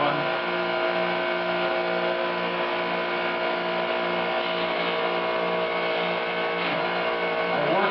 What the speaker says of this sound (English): What you're hearing is the wire brush here, which is a new one.